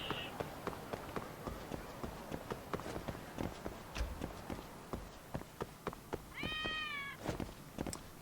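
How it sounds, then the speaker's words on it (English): A cat meows once in the video game Lost Judgment, a clear rising and falling call standing out over a steady run of footstep-like thuds. "Oh yeah, there's always the kitty."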